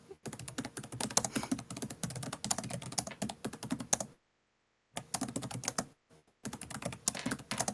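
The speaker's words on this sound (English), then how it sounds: "So, no offense, Ray, but you're driving me crazy with the typing." Rapid, steady clatter of typing on a computer keyboard, close and fairly loud, running in bursts with a couple of short silent pauses, played during a Call of Cthulhu 7th Edition tabletop character-creation session.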